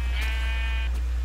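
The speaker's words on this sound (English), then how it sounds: "That's a lot of sheep, man. It's a whole flock!" Minecraft sheep give a pair of short, close bleats over a steady low hum, with no talking.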